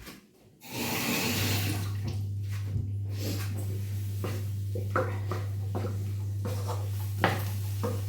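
A dropped piece of food is rinsed under a running kitchen tap while cooking butter paneer: a steady, close rush of water flows for about seven seconds over a low constant hum, with a few faint knocks and clinks.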